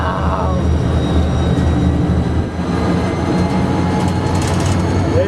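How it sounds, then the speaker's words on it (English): A train rushes past nearby, a loud, sustained low rumble and roar that holds steady for several seconds. "There's the train goes."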